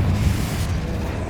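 A Confringo spell explosion in Hogwarts Legacy bursts as a heavy, low booming blast that rumbles on briefly at close range.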